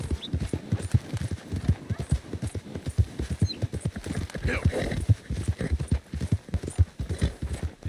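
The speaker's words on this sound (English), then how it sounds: "She got a little bit spooked there, our horse" Rhythmic clip-clop of a spooked horse's hooves in Red Dead Redemption 2 at a quick, uneven pace, fairly close, with a brief whinny and a voice talking over it.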